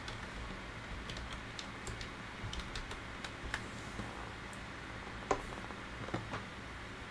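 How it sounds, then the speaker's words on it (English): Light, quick keystrokes on a computer keyboard as a command is entered at a command prompt, faint irregular clicks over a steady background hiss. "We'll go to command prompt and key in ipconfig."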